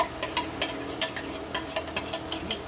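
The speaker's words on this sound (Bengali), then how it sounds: "এবার এর মধ্যে আমি একটু বাটা পেঁয়াজ মিশিয়ে দেবো।" Onion paste being stirred into a frying pan with a spoon while making Bengali dahi chingri, giving repeated scraping strokes over a steady sizzle of hot oil, close and clear with no voices.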